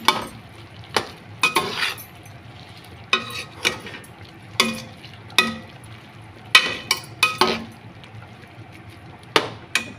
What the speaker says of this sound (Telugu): ఇప్పుడైతే కట్ చేసి పెట్టుకున్న టమాటో ముక్కలు అయితే వేసేసుకున్నాము